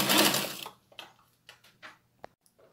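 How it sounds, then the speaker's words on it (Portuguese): Domestic sewing machine stitching folded fabric: a loud continuous whirring run for about half a second, then a few short isolated bursts and ticks as the needle is stepped, with a faint steady motor hum beneath. "E vou costurando."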